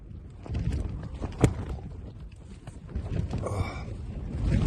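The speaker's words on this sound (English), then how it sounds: "It's really windy, strong winds as well" Gusty wind buffets and flaps against a Terra Nova Pioneer tent's fabric on King's Tor, Dartmoor, a rumbling roar with sharp rustling snaps rising and falling.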